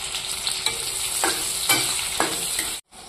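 Onions frying in a pan give a steady, bright sizzle, with a few scraping stirs of a utensil cutting through, close up with no talking, ending in a sudden cut.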